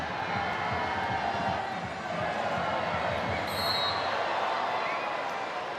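Dutch crowd at a women's hockey World Cup match between the Netherlands and Belgium in The Hague, a steady roar of massed voices rising and falling as a Mexican wave sweeps the stands, with a commentator talking over it.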